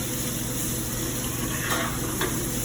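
Butter spooned over food in a hot pan gives a steady, loud sizzle and frying crackle, with a couple of brief brighter spurts of spattering partway through and no voices.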